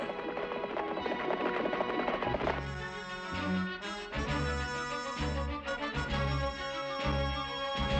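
In an animated cartoon, a horse's hooves clip-clop in a quick rhythm. A whinny rises over the steps and orchestral music plays throughout.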